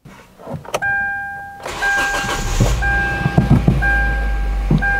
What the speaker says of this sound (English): So as you can hear, the engine is running.